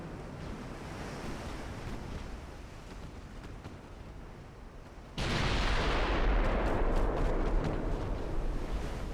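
A warship explodes and cooks off in the naval battle game Ultimate Admiral: Dreadnoughts, a sustained broadband rumbling roar that surges abruptly louder about halfway through and keeps churning to the end, with no voices.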